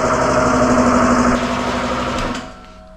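A paint spray gun runs with a steady, close mechanical hum, then winds down near the end.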